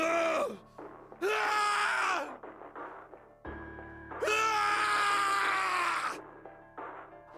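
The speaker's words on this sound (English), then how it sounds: "His scream echoed through the incineration chamber, full of rage and despair." Two long, anguished screams of rage and despair from Snake, a character in the video game Zero Escape: 999, echoing in an incineration chamber, with short pauses between them.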